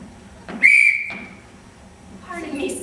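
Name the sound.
whistle being blown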